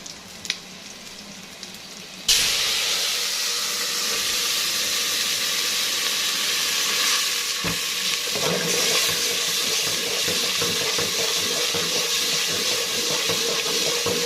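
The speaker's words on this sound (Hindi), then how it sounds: "तो पानी डालेंगे इसके अंदर।" Water hits a hot pan of browned white chickpeas with a sudden loud hiss that settles into steady, bubbling sizzling for the rest of the clip.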